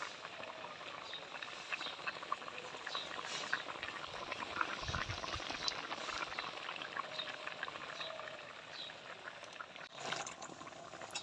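A thin hilsa fish curry boiling in a pot, a steady soft bubbling and patter that runs the whole time at low level, with one brief thump near the end.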